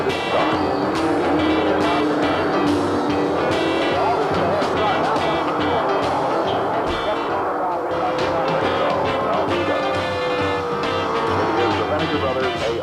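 Drag race between the Vinegar Brothers altered and a funny car, with a staggered handicap start: a loud, continuous engine roar fills the whole stretch without letting up.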